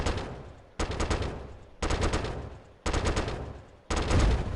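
A gun turret firing in Battle Ages, four loud bursts of rapid automatic fire, each about a second long, separated by brief pauses and decaying in between.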